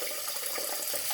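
Water runs from a household sink faucet with weak water pressure, a steady close hiss of flowing water lasting the whole brief moment with no talk.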